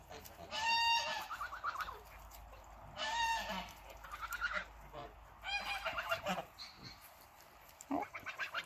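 Geese on a farm honk in loud close bursts, several rapid nasal calls in a row, then pause before starting again, with quieter gabbling and scattered honks in between.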